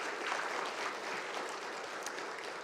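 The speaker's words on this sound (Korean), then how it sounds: "우리 한번 박수하겠습니다." A church congregation applauds together at a Sunday praise service, a steady dense wash of clapping from many hands that holds evenly for a few seconds, with no voices over it.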